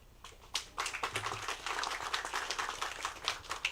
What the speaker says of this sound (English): Another round of applause for husband number 1.